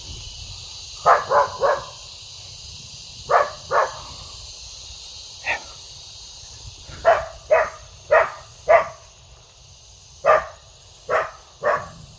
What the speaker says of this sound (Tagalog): Bakit may aso dito?